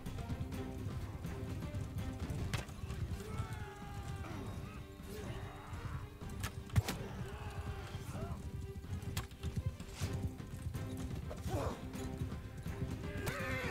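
Horses whinny and hooves clatter during a battle in the medieval video game Mount & Blade II: Bannerlord, amid thuds, a sharp crash and busy combat noise, with someone talking over it.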